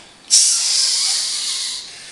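Chestnuts sizzle in a microwave: a sudden loud, bright hiss kicks in and holds steady for about a second and a half before thinning out, with no talking.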